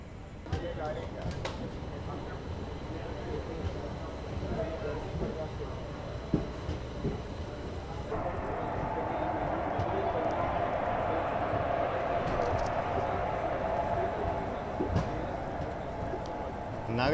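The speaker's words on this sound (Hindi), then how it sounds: "निकल रहे हैं हम लोग नागरकोइल रेलवे स्टेशन से।" Train pulling out of Nagercoil railway station on a morning departure, a steady rolling rumble building after a few seconds and continuing, with occasional clanks and faint birds in the background.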